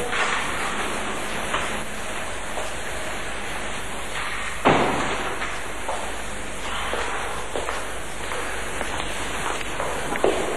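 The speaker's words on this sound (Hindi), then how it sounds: "बड़ी बारिश है बाहर।" Heavy rain falling outside, a steady dense hiss of downpour with a few louder splashes, continuous and even throughout.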